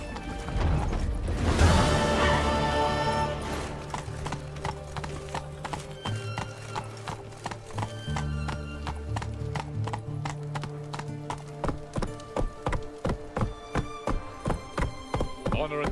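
Roach the horse gallops in The Witcher 3 with steady rhythmic hoofbeats, close and loud, and a neigh near the start. Game music plays underneath.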